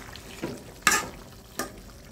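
Radish curry with small hilsa fish is stirred in a pan. There are a couple of soft scraping strokes and a faint sizzle, close and quiet.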